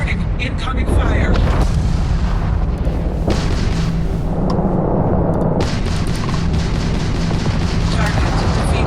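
Incoming-fire explosions in a combat simulator game rumble as continuous, loud, heavy booms over several seconds, with a synthetic voice calling out alerts.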